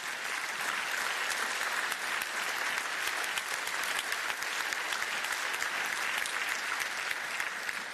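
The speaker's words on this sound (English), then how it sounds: "Give them a round of applause," An audience applauds steadily at the opening session of the European Week of Regions and Cities, a dense, even wash of many hands clapping that holds at full strength from start to finish with no voices rising above it.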